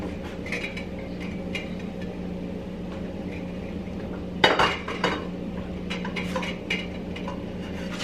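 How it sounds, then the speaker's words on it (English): A pot being wiped clean of oil on its bottom in a home kitchen, with clinking metal and scraping, a sharp clatter midway and scattered close knocks over a steady background hum. "I got a little bit of oil on the bottom, so I want to make sure I get that off."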